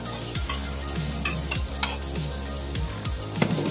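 Bottle gourd and shrimp are stir-fried in a hot pan, giving a constant close sizzle punctuated by regular scraping strokes of a spatula against the pan, with no talking.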